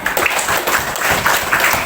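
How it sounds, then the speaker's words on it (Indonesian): Applause from a classroom of pupils, a steady busy patter of many hands clapping close by for the whole stretch. "Tepuk tangan buat Anda."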